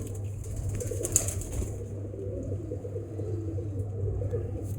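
A pigeon on a rooftop gives soft, low cooing close by, a steady murmuring coo over faint background hum, with a brief flutter near the start.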